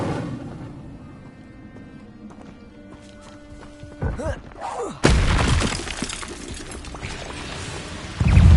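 An Incendio fire spell cast in Hogwarts Legacy on PS5 erupts as a sudden loud burst of roaring flame, preceded by quieter game sounds and a rising whoosh, with a second surge at the end.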